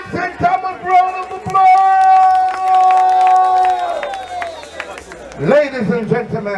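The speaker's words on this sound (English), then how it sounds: "Give him a big St. Thomas round of" A big crowd at a Jamaican march in St. Thomas roars and cheers loudly for several seconds. A sustained shouted voice rises above the din, and the noise swells again near the end.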